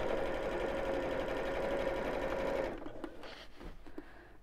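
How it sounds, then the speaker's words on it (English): Domestic sewing machine runs steadily as it stitches fabric over wadding under the presser foot, a continuous close motor whir that stops after about two and a half seconds, followed by a few faint handling clicks. "when the wadding is touching the presser foot, it kind of creates a bit of friction and slows the machine down a bit"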